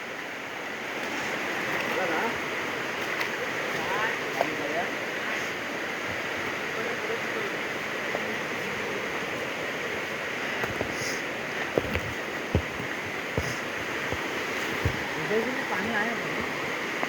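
A river at night rushes in a steady broadband wash of flowing water, with faint voices talking underneath and occasional knocks.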